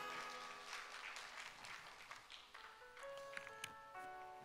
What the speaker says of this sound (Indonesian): Berikan tepuk tangan buat Hazel.